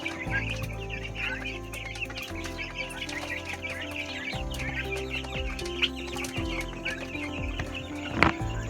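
Chickens and turkeys cluck and chatter continuously in a busy poultry pen, with a steady low hum underneath and occasional louder squawks.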